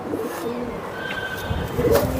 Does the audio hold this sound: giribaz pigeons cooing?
yes